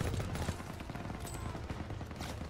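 Dense, rapid World War II gunfire rattles in Call of Duty WWII, with machine-gun bursts against an MG42 nest layered into continuous battle noise and a voice.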